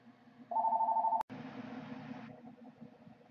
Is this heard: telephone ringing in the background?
yes